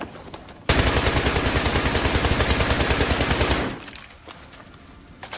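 Rapid automatic gunfire from a video game weapon fired from the hip: a long, steady burst of closely spaced, loud shots lasting about three seconds, then cutting off to quieter background noise.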